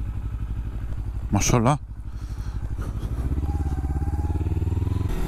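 A motorcycle rides along Maximilianstraße, a city street, its engine a steady mid-pitched drone with a brief louder rev, heard close under a voice.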